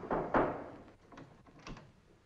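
A door in a 1951 romantic comedy-drama film opens and shuts with a couple of dull thumps and softer clicks, quiet and close with room tone between.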